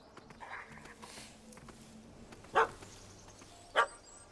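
A dog in The Witcher video game barks at a cat up a tree, giving two sharp, separate barks about a second apart over quiet ambient background.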